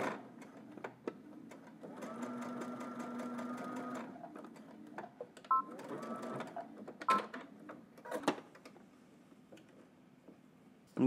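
A home sewing machine stitches a seam for a pattern sew-along, Simplicity #9945 View B, running in steady mechanical bursts with a loud continuous run in the middle, then pausing and ticking between short stitching spurts.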